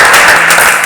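Audience applause at a Christian youth gathering, a loud, dense wash of clapping filling the brief moment without any voices.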